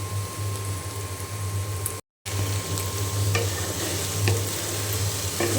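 Okra fries in a pan with a dense, close, continuous sizzle, interrupted by one brief silent gap, and a few soft stirring knocks sound over the hiss.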